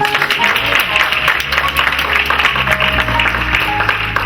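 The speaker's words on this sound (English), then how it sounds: "Let's give her another round of applause." A church congregation applauds during a live-streamed service, a loud, busy spread of clapping with some voices and background hum mixed in, continuing steadily throughout.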